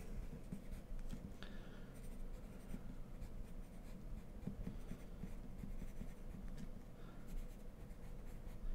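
A soft, dark graphite pencil writes on paper in a continuous close scratching and gliding, smooth and even with small stroke-by-stroke accents, quiet and alone.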